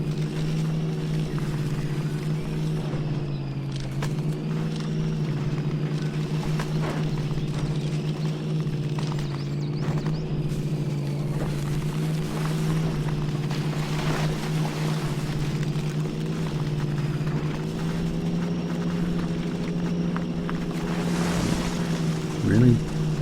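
Heavy truck engine in Spintires: MudRunner on the Tynda 6 mod map, droning steadily as it climbs a muddy hill, with pitch dips and rises as gears are worked back up, close and continuous throughout.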